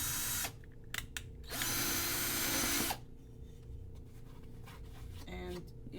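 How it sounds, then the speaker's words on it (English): A power drill bores a hole while making a soap box, whirring in two loud bursts with short stops between, then quieter handling noises and a brief ratcheting sound; a voice speaks faintly in the gaps. "I'm using a different size on my drill. And what I'm doing is boring a hole"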